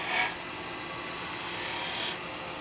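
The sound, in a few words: spindle gouge cutting wood on a lathe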